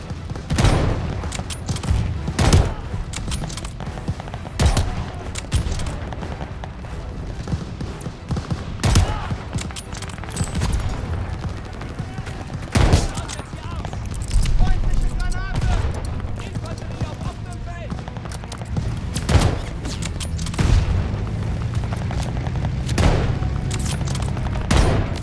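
Rapid gunfire bursts and booming grenade explosions from the Call of Duty: Vanguard shooter game, loud and continuous with repeated sharp blasts throughout.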